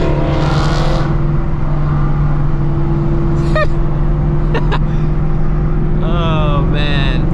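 A Charger or Challenger R/T engine booms loud and steady from a nearby road, heard from inside a Shelby GT350, with chirps and tones rising and falling over the drone.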